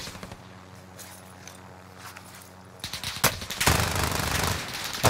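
Rapid gunfire in a video game shootout, bursts of automatic shots and single cracks growing louder and denser toward the end, with faint muffled voices underneath.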